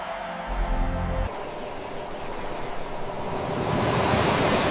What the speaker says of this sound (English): Fade out with slow guitar and soft ocean breeze